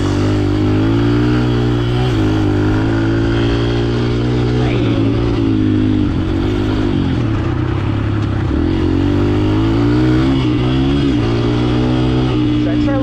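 A dirt bike engine revs in a gravel pit, its steady loud drone rising and falling through changing throttle across the whole stretch, with a voice talking over it at times.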